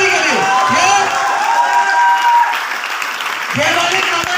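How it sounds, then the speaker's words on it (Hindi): Loud audience applause from a crowd at an Indian business seminar, steady clapping throughout with a few whoops, while a voice speaks over it on a microphone. "जोरदार तालियां गुरुदेव श्री सुनील शर्मा जी के लिए"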